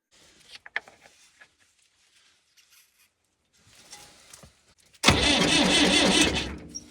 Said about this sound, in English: Let's hook up the battery and see if it'll start.